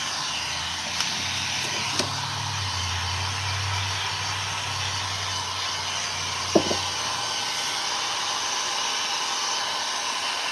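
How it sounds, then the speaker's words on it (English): A heat gun blows close up on a frame being upcycled, giving a steady loud airy whoosh with a low hum that eases partway through, plus a couple of small clicks. "I like to get my heat gun really up close and personal with my pieces."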